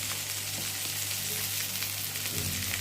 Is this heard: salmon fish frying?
yes